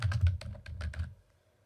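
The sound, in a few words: typing a name on a computer keyboard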